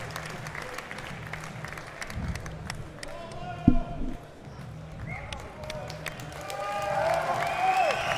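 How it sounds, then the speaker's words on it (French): A crowd in an arena applauds after an MMA fight at Lions FC 10. The steady clapping and cheering run under a commentator speaking French, rising toward the end. "On applaudit."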